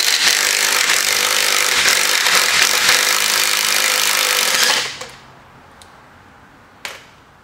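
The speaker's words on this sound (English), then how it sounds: "we're going to take our 18 millimeter socket and we're going to go and move the bolt that's in here" A power tool with an 18 mm socket removes a bolt during a 2016 Camaro SS spring installation. It whirs loudly and continuously for about five seconds, then stops, followed by quiet clicks and a sharp tap.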